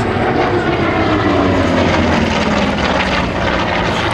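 A Corsair propeller fighter at the Flying Legends air show at Duxford roars loudly and continuously, a dense engine drone that fills the whole stretch with no talk.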